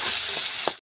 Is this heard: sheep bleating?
no